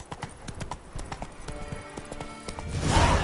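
Roach, a horse in The Witcher 3, gallops with steady, rapid clip-clopping hoofbeats throughout, close and prominent, swelling louder near the end.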